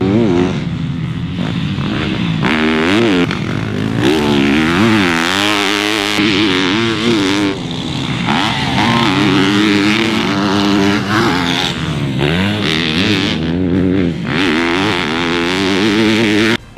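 A 2022 Yamaha YZ250F dirt bike being ridden, its engine revving loud and close throughout with rising and falling pitch as the rider works through the gears.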